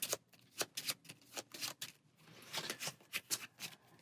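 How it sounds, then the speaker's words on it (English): Marvel Champions playing cards being shuffled close up, a quick run of crisp riffling bursts in an uneven rhythm, quiet and alone without any talk. "We are going to make sure we have 5 cards and shuffle."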